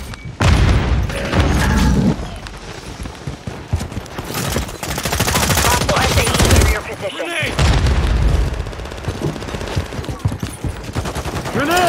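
Grenade explosion amid constant gunfire in Call of Duty Modern Warfare 3, a loud, dense barrage of booms and rapid shots filling the whole stretch with only a brief lull.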